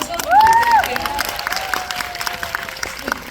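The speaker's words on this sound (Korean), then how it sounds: "박수 한번 부탁드릴게요" Audience applause at a film screening Q&A in a cinema, a dense crackle of clapping with a few shouts rising over it, steady from start to finish.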